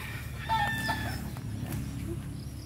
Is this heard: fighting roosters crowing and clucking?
yes